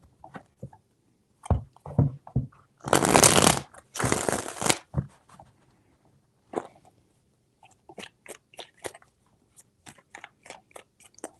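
Tarot cards being shuffled during a reading, two loud riffling bursts amid scattered soft taps and card handling, quiet and close with no talking.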